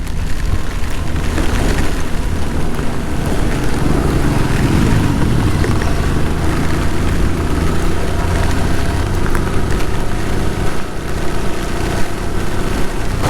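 Motorbike riding along the Malshej ghat road, a continuous loud rumble of engine and wind roar mixed with traffic noise, steady throughout with no talking.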